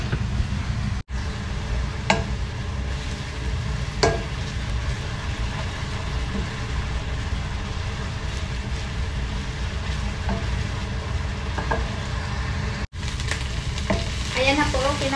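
Chopped onion and garlic sauté steadily in a hot pan, a continuous close sizzle with occasional stirring scrapes and soft pops throughout, no talking.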